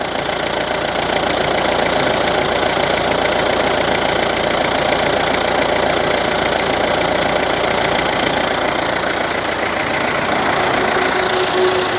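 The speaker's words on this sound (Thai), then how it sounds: "สตาร์ทเครื่องไม่มีน้ำมันดีเซลรั่วซึมนะครับเนี่ย เสียงเครื่องเงียบ ๆ นะครับ" Isuzu Rodeo 4WD diesel engine idling steadily after starting, a continuous near mechanical hum with a faint rhythmic diesel knock throughout, no talk.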